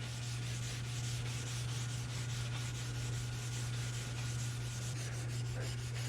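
A lathe bed sprayed with WD-40 is scrubbed to lift gunk off, making a continuous, fairly quiet rubbing sound that stays even from start to finish over a constant low hum.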